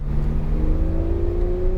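A Porsche 911 GT3 RS accelerating on the Charlotte Motor Speedway, its engine note climbing steadily in pitch as it pulls hard, heard loud and close from inside the car with no speech.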